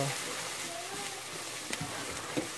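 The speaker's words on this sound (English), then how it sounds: "because I like to fry my seasoning a little bit with the tomatoes" Seasoning and tomatoes sizzling in a pot for Nigerian jollof rice, a steady soft frying hiss with occasional stirring clinks, close and moderately quiet, with brief speech-like sounds over it.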